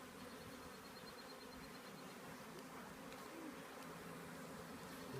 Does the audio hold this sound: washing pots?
no